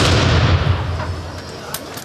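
Black powder salute cannon (Böller) fired by a marksmen's guild ceremonial firing squad at a Köthen Schützenfest opening, heard as a loud, booming, broadband blast with a long rumbling decay across the whole moment, no speech over it.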